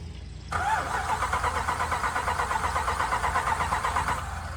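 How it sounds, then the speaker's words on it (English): A Dodge Ram truck engine cranks without starting, a steady close rapid churning of the starter that carries on for several seconds and then eases off slightly at the end, with no talk. "it's definitely a crank no start"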